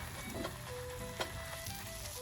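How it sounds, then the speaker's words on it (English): Soft, steady sizzling of sausage frying in a pan, a continuous crackly hiss with faint background tones. "you're going to hear the sausage begin to sizzle"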